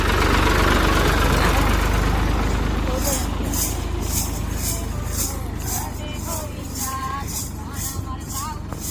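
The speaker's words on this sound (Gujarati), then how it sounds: "તો ટ્રેક્ટર આવી ગયું છે" A tractor engine rumbles steadily and loudly nearby on a road with water on both sides, with voices faintly mixed in over the drone.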